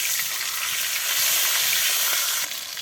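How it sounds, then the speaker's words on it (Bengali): Fish head being broken apart and fried in hot oil for a mashed-potato dish, a steady dense sizzle with faint stirring scrapes, close and continuous, no voices. "মাছের মাথাটা যেহেতু আলু ঘাটিতে দিবে তাই ভেঙে ছুড়ে ভাজি করে নিচ্ছে একেবারে ভালো করে"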